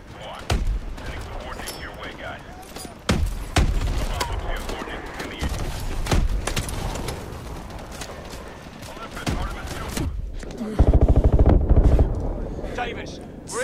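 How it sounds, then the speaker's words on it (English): Suppressing gunfire in the Call of Duty Advanced Warfare campaign: sharp automatic bursts and heavy impacts crack out in irregular volleys, with a rapid sustained burst near the end and voices talking in between. "Suppressing fire"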